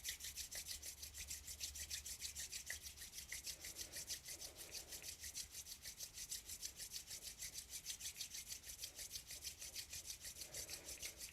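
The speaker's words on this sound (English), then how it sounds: "Bring the palms together and rub them together." Two palms rubbing briskly together at the start of a seated Kundalini yoga practice, a steady, close, dry friction sound repeating continuously with no talking.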